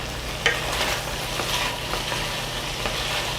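Korean spicy braised potatoes are stirred in a pot, a close, continuous bubbling sizzle with a few scraping clatters of the utensil, no voices.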